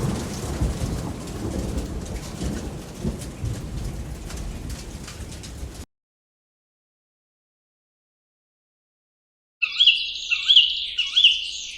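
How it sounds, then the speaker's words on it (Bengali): Heavy storm rain pours steadily in a cartoon nor'wester, rumbling thunder under the downpour, then near silence before a few sharp, high bird chirps ring out. "সারা রাত এভাবে ঝড় বৃষ্টি হলো।"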